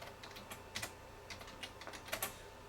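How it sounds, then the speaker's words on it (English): Fingers type on a computer keyboard, a quiet, uneven patter of light key clicks up close. "you're going to type in circuit board"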